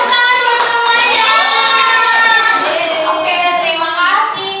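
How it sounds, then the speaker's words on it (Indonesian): Children in a classroom clap together during a lesson, a bright, dense patter with excited young voices and shouts mixed in throughout, steady and close. "tepuk tangan buat semuanya"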